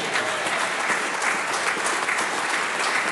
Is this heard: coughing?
no